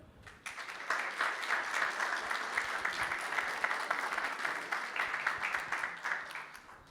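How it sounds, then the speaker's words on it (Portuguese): Steady applause from a large audience welcoming a lecture speaker, dense clapping that starts abruptly and carries on at an even level throughout. "Senhores, quero que recebam com muitos aplausos Leonardo Rolim."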